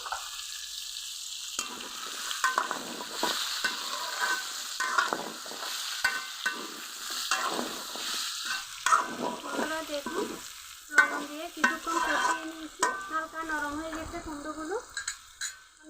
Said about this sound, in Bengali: দিয়ে দিব কুমড়ো লবণ দিয়ে কিছুক্ষণ ভালো করে কষিয়ে নিব